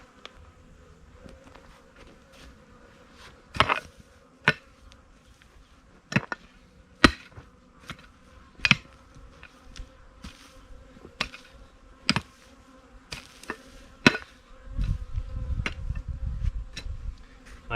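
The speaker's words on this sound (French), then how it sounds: "vous entendrez peut-être les abeilles parce qu'elles sont dans l'abreuvoir à côté" Bees buzz faintly around a water trough in a garden being built in a forest, a soft steady hum broken by repeated sharp clicks and knocks of stones being handled, with wind rumble toward the end.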